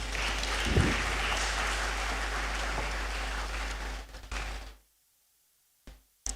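Audience applause in a hall at an evening inaugural lecture gathering, a dense steady clapping lasting about four seconds that tails off into silence, followed by a couple of brief knocks.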